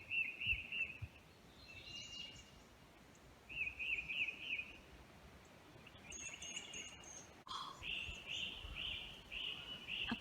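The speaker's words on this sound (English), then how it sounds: "All the noises of the birds." Bird calls and chirps repeat in short bursts over a quiet swamp background, some near and some farther off, with faint insect buzzing.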